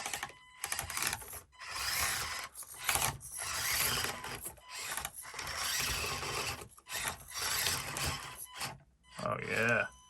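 The drivetrain of an SCX24 RC crawler whirs and rubs in short grinding, ratcheting bursts separated by brief gaps, heard close up with someone talking over parts of it.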